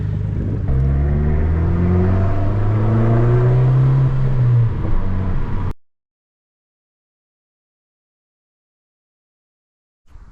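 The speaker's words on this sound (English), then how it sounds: "Toyo catback exhaust system" A car engine revs loudly through a Toyo catback exhaust, rising and falling in pitch for about five seconds before cutting off to silence, with a faint sound returning at the very end.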